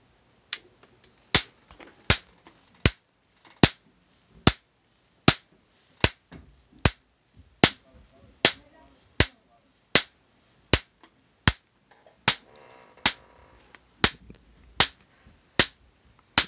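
Marx generator firing repeated high-voltage spark discharges, sharp loud cracks at a steady rhythm of roughly one every 0.75 seconds, close by, with faint background noise between snaps.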